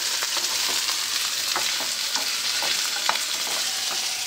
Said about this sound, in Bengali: ভেন্ডি ভাজবো।